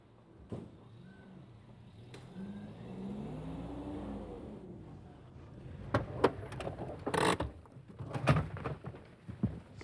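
A car engine hums and revs as the vehicle pulls away outdoors, its tone sliding upward, followed by scattered sharp knocks and clatter, with pigeons cooing faintly in the background.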